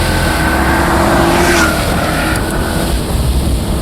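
A 1972 Pontiac LeMans pro-touring car's engine roars loud and close from inside the cabin as it is downshifted with paddles while rolling into a turn, the engine note shifting partway through without a break.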